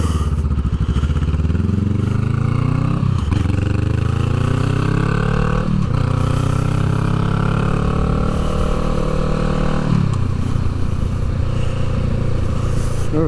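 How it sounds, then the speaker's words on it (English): Motorcycles ride past on a road, loud engine roars that swell and fade as each bike passes, with repeated revving and gear changes close by across the stretch, no talking. "Everybody's out on their bike today."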